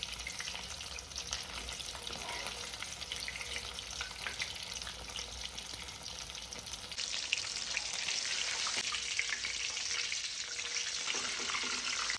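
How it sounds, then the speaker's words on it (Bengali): Paneer cheese popcorn sizzles in hot frying oil, a close, continuous crackling hiss that grows a little louder and brighter partway through, with no talking. "আমার এগুলো ভাজা হয়ে গেছে এই যে গোল্ডেন ব্রাউন কালার চলে এসছে পনিরের মধ্যে"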